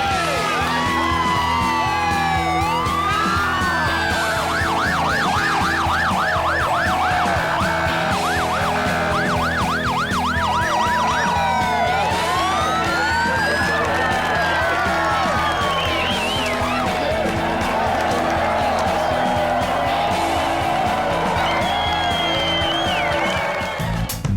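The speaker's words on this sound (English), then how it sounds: "I'm hearing sirens right now. What are these sirens about?" Several police sirens wail and whoop together, some rising and falling, some fast yelping, over a dense roar of traffic and crowd noise.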